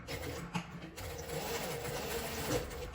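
A domestic sewing machine runs steadily while stitching the side seams of fabric for a small card purse, giving a faint continuous mechanical whir with a soft rapid needle patter throughout.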